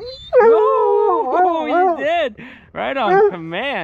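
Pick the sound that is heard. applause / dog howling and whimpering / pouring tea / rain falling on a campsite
dog howling and whimpering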